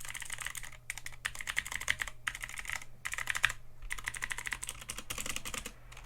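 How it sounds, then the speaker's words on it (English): Clicky switches on an AJAZZ AK33 mechanical keyboard, typed in steady close bursts of sharp clacks with a few brief pauses, no talking. "just having a quick feel of the switches. They are definitely clicky."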